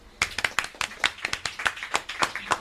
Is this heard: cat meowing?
no